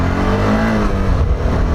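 A Voge 650DS motorcycle engine accelerating through the gears, a steady loud mid-pitched drone with rising revs, close and continuous with no talk.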